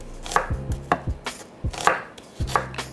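Knife chopping through an onion, cutting it into thin slices on a board, about eight sharp, distinct chops at an uneven pace with no voices.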